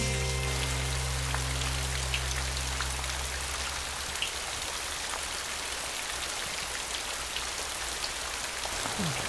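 Heavy rain pours down steadily, a dense broadband hiss of drops hitting surfaces close by, with a low rumble fading out early on and no talking.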